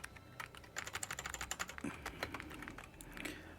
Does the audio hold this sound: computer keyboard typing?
yes